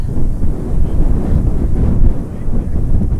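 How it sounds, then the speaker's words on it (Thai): Strong wind buffets the microphone beside the traditional windmills of Kinderdijk in the Netherlands, a loud, constant low roar that rises and falls gently with no break. "ตอนนี้ลมแรงกังหันหมุนแรงมาก"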